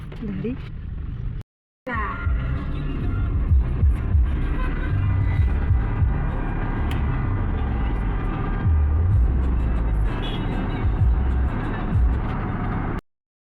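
Steady low engine rumble and road noise inside a car on a highway trip, continuous apart from one brief cut, with people talking over it.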